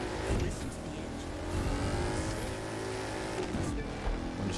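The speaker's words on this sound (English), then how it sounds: "Listen to the engine." A car engine revs hard during a race, its loud, sustained roar rising and falling through gear changes, close and continuous with no talk.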